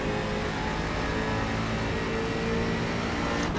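A race car engine drones steadily in an iRacing sim race, a loud, continuous mid-pitched roar that holds without a break, with faint shifts near the end.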